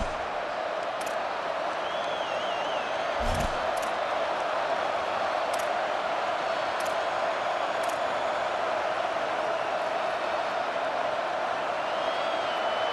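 A college football stadium crowd at South Carolina versus Texas A&M roars as a dense, constant wash of noise, loud throughout, with faint whistles and a few brief higher calls standing out.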